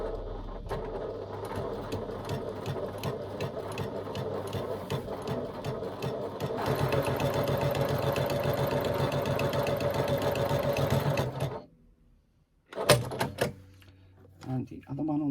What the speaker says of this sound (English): So now we're going to sew in all of these folds.